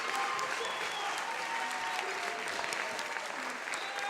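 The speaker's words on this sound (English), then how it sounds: "So a big round of applause." Audience applauding at an arts event with street dance and digital drawings, steady dense clapping that fills the whole stretch at an even level with no talk over it.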